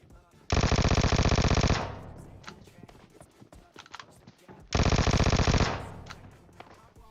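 A Vector submachine gun fires in PUBG Mobile in two loud, rapid full-auto bursts a few seconds apart, each about a second long, with quieter game sounds between them.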